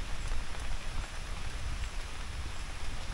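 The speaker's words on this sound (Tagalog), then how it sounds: "Eto na nga at umuulan-ulan na." Light rain falls steadily at a campsite in Tanay, Rizal, a dense, even patter of drops on surfaces that continues without pause and without voices.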